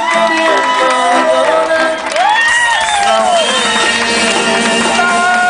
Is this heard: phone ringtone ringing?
no